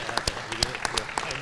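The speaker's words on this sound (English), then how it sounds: "let's just give them one more round of applause" A board of education meeting crowd claps in a brief burst of applause, scattered sharp hand claps mixed with a voice speaking over them.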